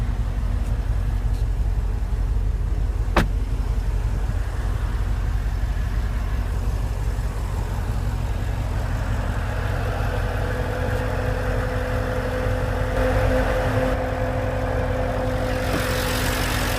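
A 2014 Porsche Panamera GTS with a 4.8-liter naturally aspirated V8 idles with the hood open, a steady deep rumble heard up close and fairly loud throughout, with a faint click partway and no talking.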